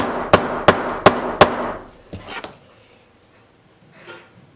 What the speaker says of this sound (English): This is a plastic hammer, just so you know.